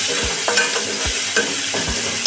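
Garlic and ginger hit hot oil in a pan and are stirred for a halwai-style aloo gobi, three distinct spoon scrapes and knocks over a loud, continuous sizzle, close up with no voices.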